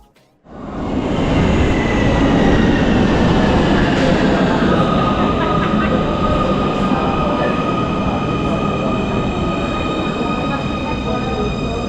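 Munich underground train running between stations toward Marienplatz, a loud sustained roar with a deep rumble and whining tones rising in pitch as it accelerates, close and continuous after an abrupt start.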